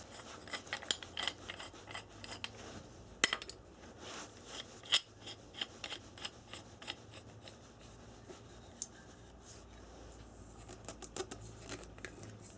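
A Subaru oil filter being cut open with a hand tool, a steady stretch of close, quiet scraping and rasping cuts with occasional sharper snips and clicks, no voices.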